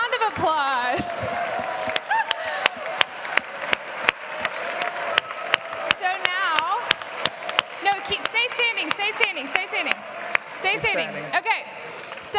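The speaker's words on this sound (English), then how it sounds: "give them a round of applause" A seated crowd at a campus gathering applauds standing students and staff, clapping mixed with a few whoops while a speaker keeps talking loudly over it.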